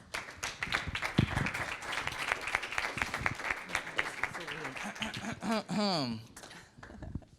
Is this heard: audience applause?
yes